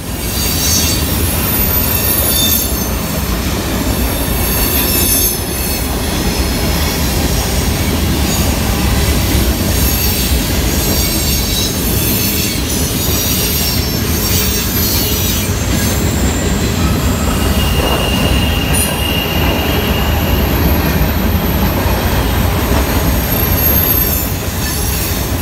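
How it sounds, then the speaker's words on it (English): CSX Q580 freight train speeding northbound through Marietta, Georgia, a loud, close, continuous roar of rolling railcars with steady wheel noise and high metallic squeals of wheels on rail throughout. "CSX Q580 pops up as they speed northbound towards Chattanooga."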